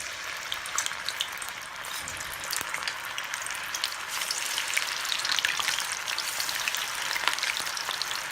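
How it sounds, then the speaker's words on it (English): Mutton pakoras fry in hot oil in a pan, giving a steady, close crackling sizzle with scattered pops throughout and no talking. "now it's ready to be fried"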